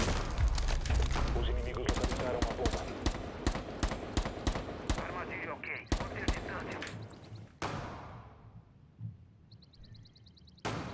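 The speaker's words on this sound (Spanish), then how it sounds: "Habrán visto los disparos." Rapid bursts of game gunfire, dense and punchy at first, then thinning out to a few scattered shots, with talk mixed in.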